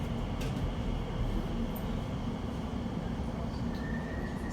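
An Elizabeth line train arriving at Whitechapel station, a steady loud low rumble of wheels and running gear with a faint high whine near the end, continuous throughout.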